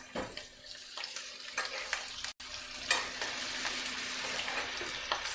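Pork sizzles steadily in a hot pan while being basted with rosemary, thyme and garlic, with repeated spoon scrapes and splashing bursts over a constant close frying hiss.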